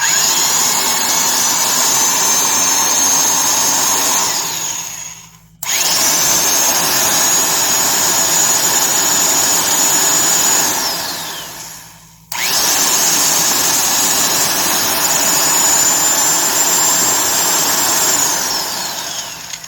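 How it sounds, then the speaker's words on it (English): A Skil Model 80 HD 1/2-inch electric drill, freshly greased, runs loud and close in three long bursts. Each burst winds down to a brief stop before the motor whines back up to full speed. "See how it sounds with the fresh grease."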